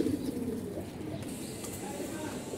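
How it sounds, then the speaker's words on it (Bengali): A pigeon coos with a soft, low, burbling call up close, fading into a quieter background. "এই যে একটা কবুতর আপনারা দেখতে পাচ্ছেন"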